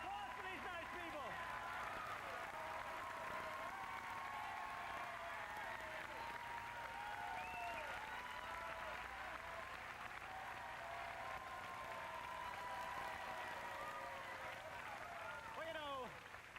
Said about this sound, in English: How about a round of applause for these nice people?